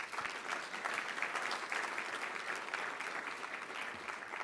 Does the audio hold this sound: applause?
yes